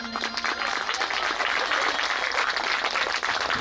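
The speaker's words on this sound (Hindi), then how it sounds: "एक बार हमारे संगीत वाले भैया लोगों की ताली बजाओ" A crowd at a Shiv Mahapuran religious discourse claps steadily for the accompanying musicians, a dense, sustained applause filling the whole stretch at an even level.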